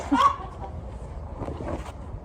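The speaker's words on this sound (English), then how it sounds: "They hear a rooster." A single short cluck from a nearby rooster, followed by faint low outdoor background noise.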